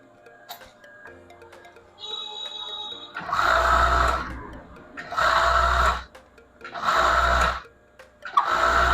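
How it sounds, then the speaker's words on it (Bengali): A flatlock sewing machine stitches leggings in three loud, close bursts of a few seconds each, the motor whirring up and stopping between runs, with quieter workshop clatter and a brief tone before the first burst. "এই দুইটা প্রসেসই এই ফ্ল্যাট লক মেশিন দিয়ে করা হয়"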